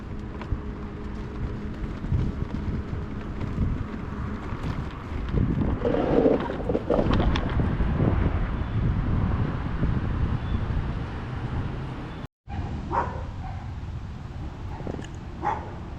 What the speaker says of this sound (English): There's a little bit of wind blowing this morning, going right up my back.